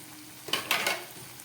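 Loach fish frying in a pan over low gas, a faint soft sizzle with a couple of brief scraping stirs in the middle, quiet and close with no voices.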